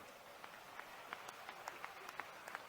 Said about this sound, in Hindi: तो इस पे तो जोर से ताली बजाओ ना